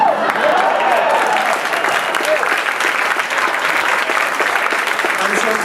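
Loud, dense applause fills a hall at a 2013 awards ceremony, sustained and even throughout with crowd noise beneath.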